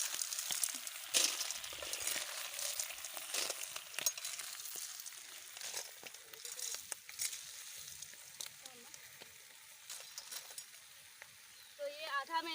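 Snails fry in a pan, giving a soft, continuous sizzle with stirring and scraping clatter, faint and close, as someone speaks.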